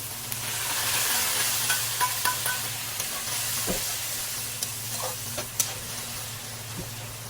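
Boiled mung beans being stirred in a cooking pan, a constant sizzling hiss with soft scraping and a few light clinks from the spoon, close up with no talking.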